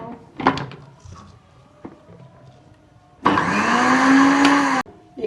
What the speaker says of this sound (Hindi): ये हम ब्लेंड करेंगे इसको।